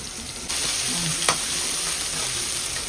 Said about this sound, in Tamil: இதுவும் நல்லா ப்ரௌன் ஆகிற வரைக்கும் வதக்கணும்.